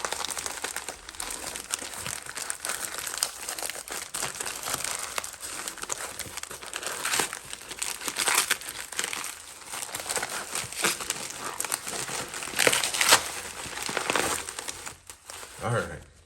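Tape-sealed Goodwill shipping package being unwrapped, with continuous crinkling and tearing of plastic and tape close by, rising in bursts, while a voice talks at times.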